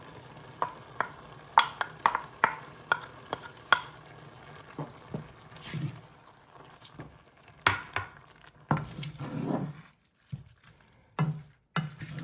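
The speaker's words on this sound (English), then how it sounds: "So now we put the tomatoes in." Crushed tomatoes go into a pot of cooking vegetable soup, giving soft plops, stirring scrapes and light sizzling, with a run of sharp utensil taps against the pot in between.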